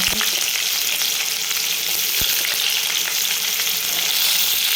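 Cumin seeds and a large sliced onion sizzle in hot oil in a pan, a steady bright crackle throughout with a couple of faint knocks of a utensil, no voices.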